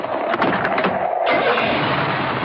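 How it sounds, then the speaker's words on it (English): A Ford truck engine cranks and catches in bitter sub-zero cold, a dense, grinding roar with a brief dip before it settles into a steady rumble, heard as part of a radio ad, with no voices. "That's the sound of a tough Ford truck coming to life in bitter sub-zero temperatures."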